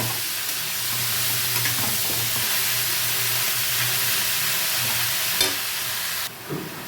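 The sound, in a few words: bottle gourd being stir-fried in oil with tempering spices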